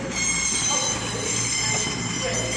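A British Rail Class 220 diesel train at York station, with a steady rumble of rolling wagons and a high wheel squeal held for about three seconds, fairly close and without talk.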